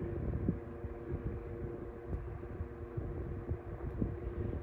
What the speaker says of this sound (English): if it wasn't for that whine, this fan would be nearly silent